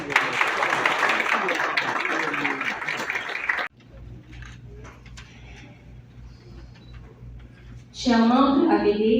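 Audience applause at an investiture ceremony for a youth government in Haiti rings out for a few seconds, then stops abruptly, leaving a low hum and scattered mechanical noises before a voice starts speaking.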